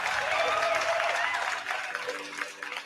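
Clapping breaks out for a football coach after a Bucs win over the Lions, a steady burst of hands that thins toward the end, with a voice heard partway through.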